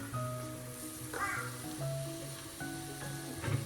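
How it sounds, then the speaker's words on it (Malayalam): Kashmiri chilli powder and turmeric fry in oil for fish, a soft, low sizzle with faint spoon scrapes and clinks, quiet and close, no voice. "എല്ലാം കൂടി ചേർത്ത് നമുക്ക് നന്നായിട്ടൊന്ന് വഴറ്റാം."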